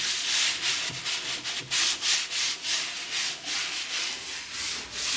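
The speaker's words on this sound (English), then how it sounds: "And start sanding." A wooden bookcase is hand-sanded in quick, rhythmic back-and-forth strokes, a steady close-up scratchy rasp that runs on without any talking.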